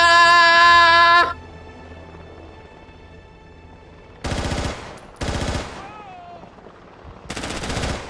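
M4 rifle gunfire in the tactical shooter SOCOM U.S. Navy SEALs 3, heard as three short, loud automatic bursts spaced apart, following a brief tonal electronic sound at the start.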